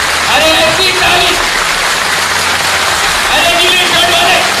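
Dense crowd applause fills a political rally, steady clapping throughout with a crowd of many hands under occasional speech fragments.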